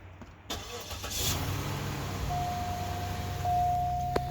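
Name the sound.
2005 Cadillac DeVille V8 engine starting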